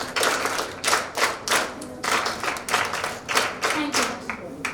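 An audience claps for government school children at a mentorship program with officer trainees, giving steady, even applause that swells in repeated waves.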